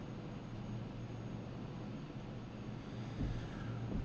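A Bombardier Learjet 45 rolls out after landing at Telluride in a flight simulator game, giving a steady, moderately loud low engine rumble that swells slightly near the end, with no talking.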